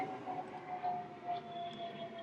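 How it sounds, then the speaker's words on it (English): A private jet passing overhead gives a distant, steady jet whine and rumble, faint and even throughout with no talking. "You can hear an airplane flying overhead right now."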